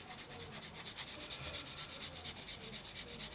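Lightly sanding a model aircraft canopy seam with 1600-grit abrasive: a soft, rhythmic rubbing scratch repeating in quick even strokes, close and quiet, with no talking.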